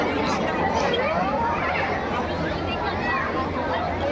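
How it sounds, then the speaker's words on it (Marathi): Dense crowd chatter fills a temple during Datta Jayanti, a steady babble of many voices close around with no pauses. "गर्दी आज भरपूर आहे कारण"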